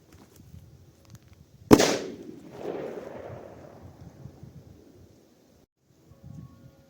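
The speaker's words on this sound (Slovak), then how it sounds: "No, ide petarda Silver Crackers." A Silver Crackers firecracker goes off outdoors at nightfall during holiday fireworks with a single sharp, loud blast. A long rumbling echo fades over several seconds, and light rustling noise lies around it.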